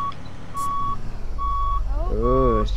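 A school bus cold-starts: repeated warning beeps sound, then near the end the engine cranks and catches, with a low rumble rising as it starts, close and loud.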